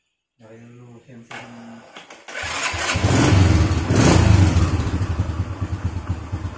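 A Honda Astrea Grand motorcycle engine cranks and catches, then roars up and settles into a loud, throbbing idle close by, after a bit of brief talk.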